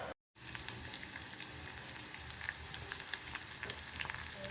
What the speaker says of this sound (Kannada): ಎಣ್ಣೆ ಹಾಕಿ ಸಾಸಿವೆ ಹಾಕಿದ್ದೀನಿ